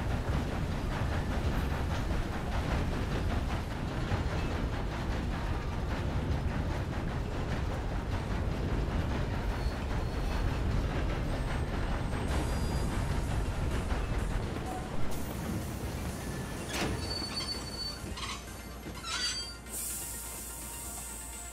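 A train rumbles along steadily in Red Dead Redemption 2, a dense, continuous low clatter of wheels and carriages that runs throughout and thins out toward the end, with a few brief tonal game sounds.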